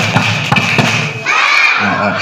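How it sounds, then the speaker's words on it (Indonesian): An audience at a school motivational talk claps on command, a few sharp crowd-wide thuds of hands striking together, with a speaking voice and crowd noise around them. "Tepuk dua."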